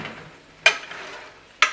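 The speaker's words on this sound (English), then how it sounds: "Just give the potatoes a stir over." Roasting potatoes get stirred in a hot pan, two sharp scraping clatters standing out over a soft, low sizzle.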